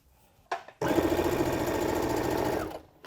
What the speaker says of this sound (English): I'm going to take this to my machine and I am going to just top stitch around in a square